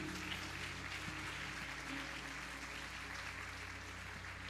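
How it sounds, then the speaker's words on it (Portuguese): Congregation at a Portuguese-language church service applauding the Lord, a soft, even wash of clapping held steady for several seconds over a low constant hum. "Você pode aplaudir ao Senhor por isso?"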